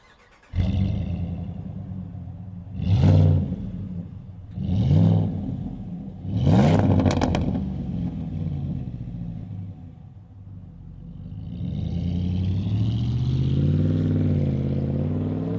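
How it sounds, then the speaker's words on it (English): A RAM 1500 pickup with a stainless steel exhaust idles with a deep rumble, then revs sharply three times with throaty exhaust bursts before settling into a steady, slightly rising drone. "Gives you a much cooler exhaust note."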